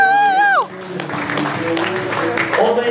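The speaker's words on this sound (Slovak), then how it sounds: "Tlieskajte aj vy na parkoure." Crowd clapping for a rider at a show-jumping awards ceremony in Pezinok, sustained applause that rises after a brief announcer's voice or musical tone at the start, continuing steadily under occasional voices.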